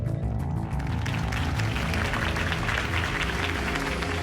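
Applause from a crowd in the video game Telltale Batman swells after a brief quieter start, dense clapping over a low rumble of cheering voices, sustained and fairly loud.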